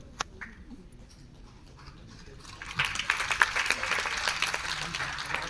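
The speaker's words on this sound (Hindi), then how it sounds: "बहुत जोरदार तालियां।" Audience applause at a UPSC seminar in Prayagraj rises after a quieter stretch with faint voices, then fills the room with dense, steady clapping through to the end.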